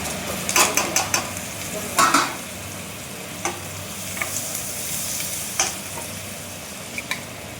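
Potatoes dropped into hot oil with mustard seeds, sizzling and frying steadily while a spoon stirs and scrapes the pan in several sharp clatters, close and fairly loud, with no talking.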